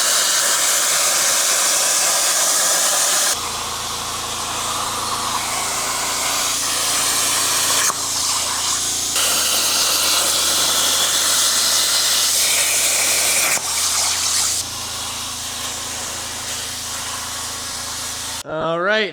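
Water drains from a metal cutting table after 12-gauge thin steel parts are cut, producing a loud steady rushing hiss that shifts in tone several times across the stretch and cuts off abruptly near the end.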